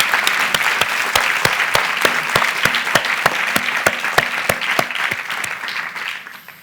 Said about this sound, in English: Let's give a round of applause to our panellists.